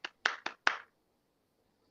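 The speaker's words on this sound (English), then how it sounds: "golf clap." A handful of soft, polite golf claps, four quick hand claps in an uneven burst, close and dry, then silence.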